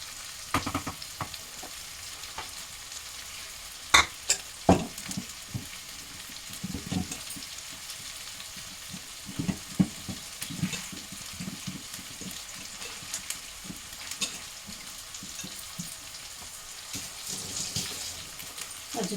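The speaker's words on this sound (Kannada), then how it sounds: "ಸೊ ಎಲ್ಲ ಮಸಾಲೆಯನ್ನು ಕೂಡ ಇದಕ್ಕೆ ಹಾಕ್ಕೊಳ್ಳೋಣ" Masala stirred and fried in a pan for an ennegai palya, a continuous sizzle broken by scraping stirs and a few sharp clanks of the spoon against metal, close and without talk.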